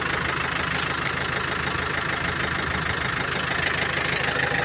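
A Yanmar 49 hp engine, newly installed in Yasothon province, runs close and loud with a steady, unbroken mechanical drone and no clear change in pitch or volume.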